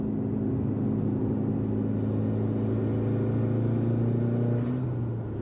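Exhaust drone from a Mitsubishi Lancer Evolution 8 while driving, a steady low rumble with a sustained hum held at an even level throughout, close and continuous with no talking over it.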